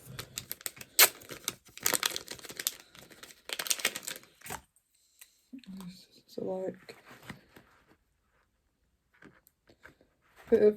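Scissors snipping at a plastic project bag alongside crinkling and rustling plastic, in short bursts of crisp cuts and crackles with pauses and a little quiet talk in between.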